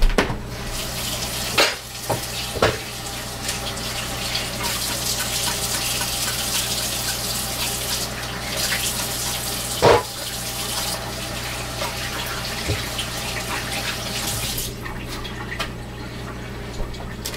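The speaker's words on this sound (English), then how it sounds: "2 seconds to wash my hands, guys." A kitchen tap runs in a steady gush while hands are washed under it during homemade sausage making, close and fairly loud, with a few knocks and splashes and a short break near the end.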